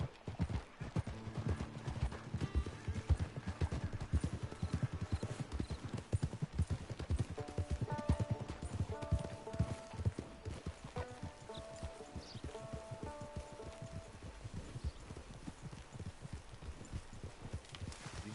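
Horse hooves clip-clopping in Red Dead Redemption, a steady rapid trotting rhythm running throughout at moderate level, with faint musical tones layered in partway through.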